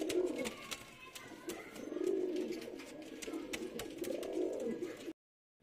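Teddy pigeons coo in soft, repeated low rolling calls at a steady rhythm, fairly faint, with a few light clicks and rustles around them and no talking.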